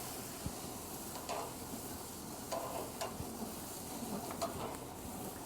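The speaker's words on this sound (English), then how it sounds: "we're flipping our steaks for the last time. They're getting good grill marks on them." Rib-eye steaks and pineapple sizzle steadily on a grill in a steady broadband hiss, with a few soft clicks and taps of turning food, heard alone and fairly quiet.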